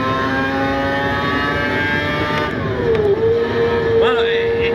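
Ferrari Formula 1 car in a racing simulator game, its steady high-pitched engine whine dropping sharply as it brakes, then climbing again, loud and close with some talking underneath.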